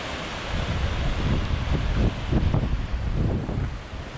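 Water overflowing from Lindley Wood Reservoir into the Washburn River, a steady broadband rushing roar close by with gusty surges and some wind buffeting the microphone, no voices.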